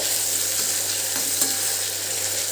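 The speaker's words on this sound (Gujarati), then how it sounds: "હવે એક મોટું ટામેટાને મેં કટ કરી લીધું છે તે એડ કરીશું એને હલાવી લેવાનું છે" Chopped tomato added to a hot pan of spiced gravy for a chola curry sizzles steadily while being stirred, a close, continuous frying hiss with soft scraping and no talking.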